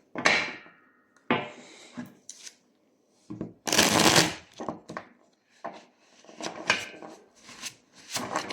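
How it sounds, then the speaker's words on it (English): A deck of cards being shuffled up close: a few riffling bursts and sharp snaps, then a longer riffle followed by scattered taps and flicks, with quiet gaps between. "One more shuffle."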